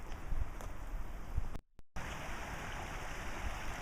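Water rushes from a spring near a brewery and dam, a steady close roaring wash broken by a brief dropout in the middle.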